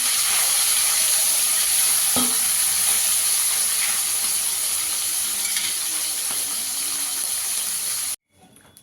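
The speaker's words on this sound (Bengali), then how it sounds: "একইভাবে বাকি মাছগুলো ভেজে নেব।" Tengra fish frying in hot oil give a steady, loud, dense sizzle with crackles and an occasional sharper pop near the start. It runs alone for about eight seconds, then cuts off abruptly into quiet.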